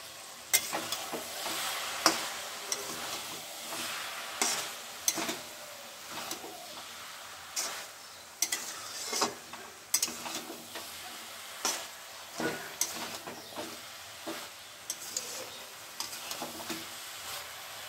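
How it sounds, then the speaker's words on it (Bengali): Cabbage cooking in a pan with a soft, constant sizzle, broken by repeated scraping stirs of a spatula at an uneven rhythm, close and fairly quiet, with faint birdsong in the background. "এই যে মা বাঁধাকপি রান্না করছে"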